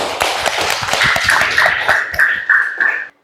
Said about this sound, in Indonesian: tepuk tangan untuk Marcella dan Rara